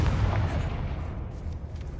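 A Confringo fire spell bursts in Hogwarts Legacy, a continuous deep, booming rumble that stays loud and dense for the full two seconds with no voices.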